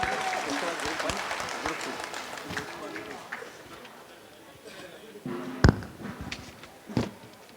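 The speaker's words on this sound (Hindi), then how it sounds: "जोरदार तालियां इन बच्चों के लिए।" Applause for schoolchildren at an eye camp event, lively clapping from a gathered crowd mixed with a few louder claps and thumps near the end.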